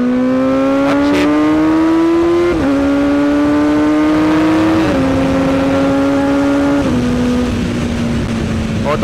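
A motorcycle engine with a quick shifter and auto-blip holds a loud, steady drone that climbs in pitch, then drops sharply at each of several upshifts, close and continuous with no talking over it.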